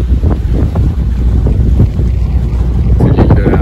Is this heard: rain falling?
no